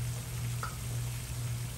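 Food browns in a hot pan while Brussels sprouts and potatoes cook, giving a steady, close sizzle and fry with a faint tick or pop partway through.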